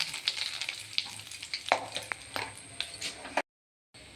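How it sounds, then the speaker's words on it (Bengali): Whole spices sizzle in hot oil in a kadai: dry chili, cardamom, cinnamon, cloves and bay leaves, for a fish curry. A close, crackling, spitting fry with scattered pops continues steadily, then cuts briefly to silence near the end. "দিয়ে দেবো একটা শুকনো লঙ্কা ফোড়ন, দুটো এলাচ, দারচিনি, লবঙ্গ, আর দিয়ে দেবো দুটো তেজপাতা"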